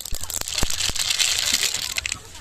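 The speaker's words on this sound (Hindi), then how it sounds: "पीला सरसों फूट गया है" Yellow mustard seeds popping and crackling in hot oil right after frying fish, a dense close sizzle with sharp irregular pops throughout, no voices.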